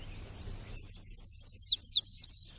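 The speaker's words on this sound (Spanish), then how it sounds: "cuentan todos los años los pájaros de Chernóbil según unas estrictas reglas ornitológicas" Small songbirds in the Chernobyl exclusion zone sing a string of quick, high chirping phrases, fairly close and clear over a faint low rumble.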